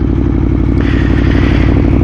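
Aprilia Tuono V motorcycle engine pulling hard under acceleration, a loud, steady, throbbing roar held close for the whole stretch, with a rising whine entering partway through and no talking.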